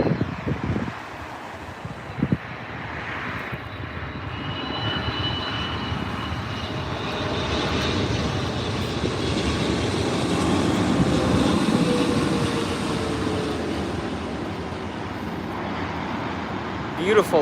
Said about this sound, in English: Beautiful landing there by Swiss.